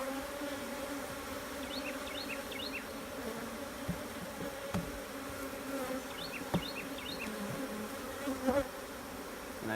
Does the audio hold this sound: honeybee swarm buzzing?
yes